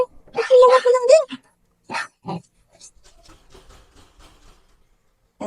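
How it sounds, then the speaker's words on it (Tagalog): Dog whimpering, a short run of high wavering whines near the start followed by a few softer yelps and snuffles, close by, with people talking around it. "meron kami ditong pasaway na aso"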